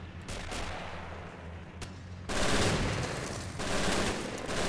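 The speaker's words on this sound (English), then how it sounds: "Where's that fire coming from? It's coming from up there from an MG42." An MG42 machine gun in the World War I shooter Tannenberg rattles out dense, continuous bursts of rapid fire, loud and close, with brief breaks between long sustained volleys.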